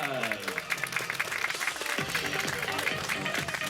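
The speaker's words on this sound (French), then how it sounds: "Allez, mesdames, messieurs, applaudissements pour Lydie." Audience applause at the prize ceremony of a 10 km road race, a steady dense patter of many hands clapping throughout, moderately loud with a voice briefly audible over it.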